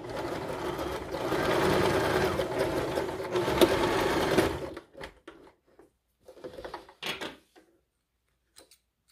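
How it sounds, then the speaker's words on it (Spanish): A sewing machine running a long straight stitch to join fabric pieces for a coquette bow, giving a steady close mechanical whir for several seconds, then stopping, followed by faint handling clicks and rustles. "Vamos a unirlos con puntada recta, en este caso podemos usar una puntada larga"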